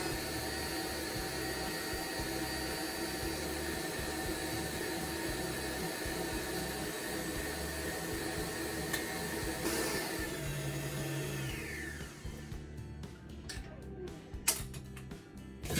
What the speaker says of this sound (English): we're whisking up the egg whites to soft beats